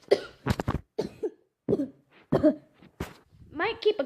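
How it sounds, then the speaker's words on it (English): A person talks in short bursts, with a few sharp coughs mixed in among the speech, close to the microphone. "Probably shouldn't be recording from how many times I've coughed in this video."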